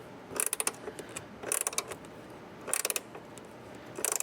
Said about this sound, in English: we actually need to tighten up these nuts and bolts. Gear wrench is really handy right here.